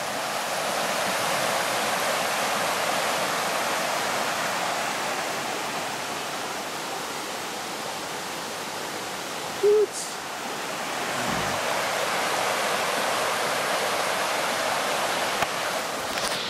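Steady broadband rush of river water in a backwater pool along a dirt road in the Canastra region, continuous and fairly close, with a brief faint tonal hoot midway and no talking.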